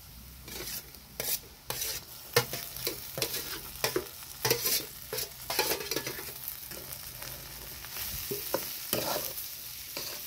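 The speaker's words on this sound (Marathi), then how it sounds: "आणि आता हे मसाले तळून घेते चांगलं. त्यानंतर आपण वाफून घेतलेले ना ते वांगे टाकते." Spices and steamed eggplant fry in a pan with a close, crackling sizzle, broken by rhythmic scraping strokes of stirring and a few sharp clatters. No one speaks.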